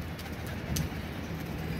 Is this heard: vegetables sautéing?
no